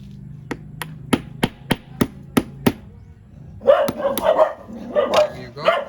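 Sharp hammer strikes on a metal pin remover tool set on a concrete slab, about eight evenly spaced loud taps, followed by dogs barking nearby.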